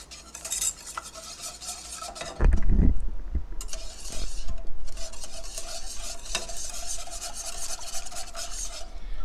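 Pineapple cake mixture being stirred in a cooking pan, with steady rasping scrapes of a utensil against the pan bottom, close and continuous, one louder knock partway through.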